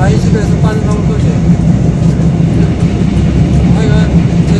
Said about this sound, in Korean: 기차 타고 가고 있어